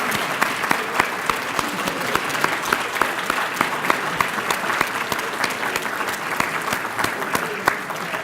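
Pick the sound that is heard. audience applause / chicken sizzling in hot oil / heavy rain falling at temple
audience applause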